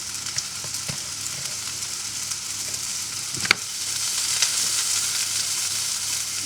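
Onions caramelizing in a very hot pan, giving a steady close sizzle and frying hiss throughout, with a few soft clicks of stirring.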